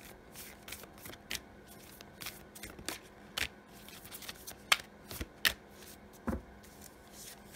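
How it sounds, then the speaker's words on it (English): Moonology oracle cards are shuffled by hand close up, giving quick irregular riffles, slaps and crisp snaps spread through the stretch with no voices. "Let's draw a few Moonology cards for you"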